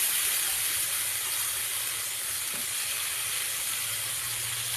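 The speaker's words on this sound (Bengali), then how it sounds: "এই যে মাছ ভাজতে দিয়েছি এটা হচ্ছে কই মাছ" Koi fish frying in hot oil in a home kitchen pan, a continuous bright hiss and sizzle holding steady throughout, fairly close, with no talking.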